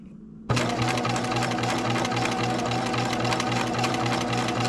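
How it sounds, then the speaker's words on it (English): A sewing machine edge stitches a gown, starting abruptly after a brief quiet moment and then running steadily as a dense, continuous mechanical whir with a rapid needle rhythm, close and loud, with no voices. "I am just basically edge stitching here"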